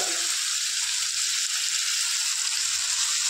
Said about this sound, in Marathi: आता आपण सोयाबीन टाकून घेऊया।